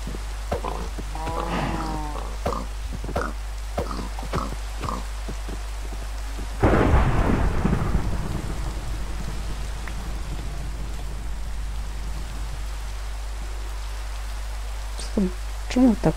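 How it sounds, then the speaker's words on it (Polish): A thunderstorm in Minecraft, steady rain hiss throughout with a loud thunder crash rolling in midway and slowly fading, preceded by scattered short sounds and brief voices. "Burza jest."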